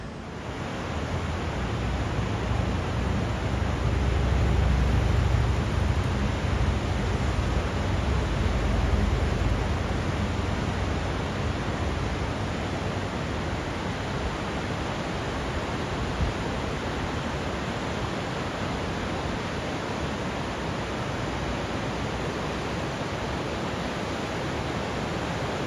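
Gorge Creek Falls in the North Cascades pours down in a dense, steady roar of falling water, loud and unbroken throughout, slightly heavier in the first half.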